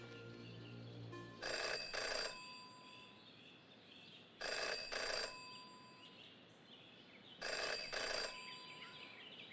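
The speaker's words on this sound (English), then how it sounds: "Jenny had learned never to ignore a ringing phone" A payphone in the Jenny LeClue video game rings in three evenly spaced double-burst electronic trills over a quiet ambient backdrop, no speech.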